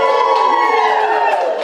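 A room of friends and family cheers at an Olympics watch party, loud sustained crowd shouting and whooping filling the space.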